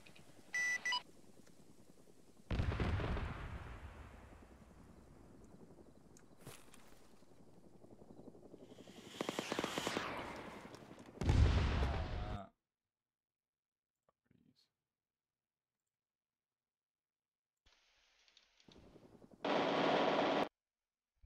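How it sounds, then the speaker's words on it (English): 30mm aircraft cannon fire during an air-to-air engagement in a combat video game, loud broadband bursts over a droning engine, the heaviest burst ending abruptly, then a quiet gap before another short burst. "I'm actually engaging with 30mm"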